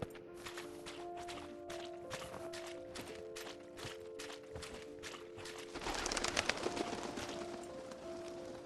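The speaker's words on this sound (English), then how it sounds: "There's some birds flying." Birds in the video game Cions of Vega call in repeated soft cooing tones over a pulsing ambient bed, growing busier and louder in the last few seconds.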